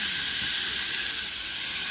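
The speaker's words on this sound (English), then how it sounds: "We need the sizzle." Food sizzles in a hot pan during a cook-up on a rainy trip, a loud, steady hiss that fills the whole moment close by, with no talk over it.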